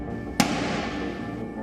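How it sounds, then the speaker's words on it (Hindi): One sharp, loud gunshot crack from a police officer firing at protesters in Yangon, with a noisy hiss continuing around it. "एक पुलिस वाला प्रदर्शनकारियों को निशाना बनाकर गोली चला रहा है।"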